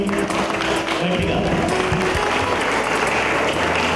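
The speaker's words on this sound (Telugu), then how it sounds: "అందరు గట్టిగా చప్పట్లు కొట్టండి" A crowd claps steadily at a church anniversary felicitation in Bhadrachalam, dense continuous applause filling the hall with a voice speaking over it.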